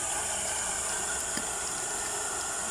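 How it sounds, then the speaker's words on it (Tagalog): Strong, steady rush of flowing water at a resort, loud and continuous with no voices. "ang lakas na ng tubig oh"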